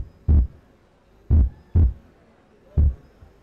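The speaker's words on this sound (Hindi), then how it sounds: "दिल की धड़कनें वहां से आ रही है." A heartbeat sound effect plays alone: four loud, deep, thudding beats in lub-dub pairs, with a short gap inside each pair and a longer pause between pairs.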